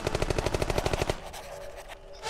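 Rapid video-game gunfire cracks out in a steady burst of about a dozen evenly spaced shots, loud and close, then breaks off into a quieter tail.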